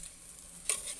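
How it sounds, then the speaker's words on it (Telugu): Ginger and turmeric are stirred in a pan to keep them from sticking. A quiet stretch gives way to one brief, close scraping sweep near the end, with no talking. "కింద అడుగంటకుండా కలుపుకోవాలి."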